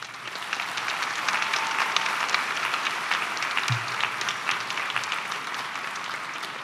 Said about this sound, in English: let's give a huge round of applause to your parental units.